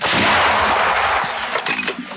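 A single British L119 howitzer fires with a loud booming blast that rolls and fades, followed by faint metallic clinks.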